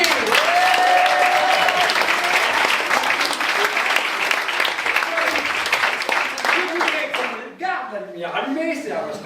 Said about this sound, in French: Merci d'applaudir Olivier.